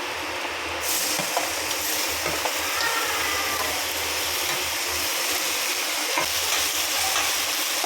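Onions and tomato for a fish gravy fry in a pan with a steady, dense sizzle. Occasional stirring scrapes and clicks sound over it, and there is no talking.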